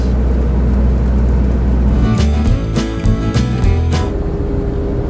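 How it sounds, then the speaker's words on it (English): Inside a Turkish intercity bus on the road, a loud steady engine drone and low rumble with rattling interior noises and a brief burst of clatter midway, no talking. "We're on a Turkish bus. This is an Intercity bus"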